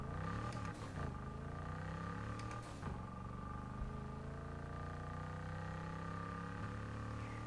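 A 1965 car engine in the racing game Need for Speed Heat, played with a wheel, pedals and manual gear shifter, drones loud and continuous, its pitch climbing and falling as it revs through gears.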